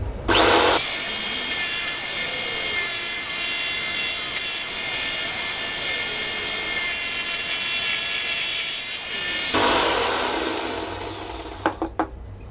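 A jigsaw cuts a small piece of wood on a jigsaw table, a loud, close, steady buzzing rasp that runs for about nine seconds. Then the blade's whine spins down and a few light knocks follow.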